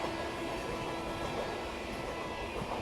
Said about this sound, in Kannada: ಯಾವುದೋ ಟ್ರೈನ್ ಏಕ್ತಾ ನಗರದಿಂದ ರೇವಾಗ್ ಹೋಗುವಂಥ ಮಹಾಮಾನಯ ಸೂಪರ್ ಫಾಸ್ಟ್ ಎಕ್ಸ್ಪ್ರೆಸ್